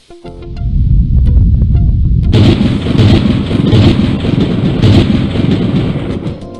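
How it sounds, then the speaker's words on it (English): Thunderstorm in the Day of the Tentacle PC adventure game, a loud sustained rumble of thunder and heavy rain that swells into a fuller crashing roar midway and keeps rolling to the end. "Looks like a big storm."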